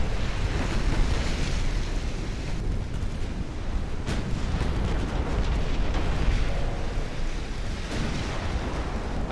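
Torpedoes striking warships in the naval strategy game Ultimate Admiral: Dreadnoughts, a dense, continuous roar of booming detonations and rushing water-like rumble that stays loud throughout, with a sharper crack partway through.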